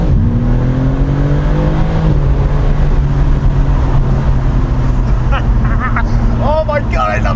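A BMW M3 accelerates hard in second gear, its engine droning loud and close at a steady pitch. A voice speaks over the engine near the end.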